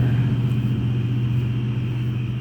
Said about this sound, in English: That was an old car.